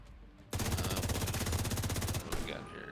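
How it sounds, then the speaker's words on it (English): Video game gunfire: a sustained burst of rapid automatic shots, loud and close, rattling steadily for nearly two seconds before cutting off, followed by quieter game sounds. "you might want to move when people are shooting at you"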